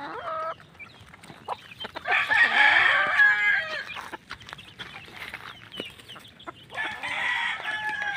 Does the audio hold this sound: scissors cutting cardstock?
no